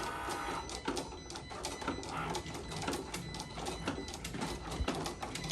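Three Cricut cutting machines run together, giving a dense, steady mechanical whir packed with rapid clicking and ticking pulses, close and fairly loud throughout with no talk.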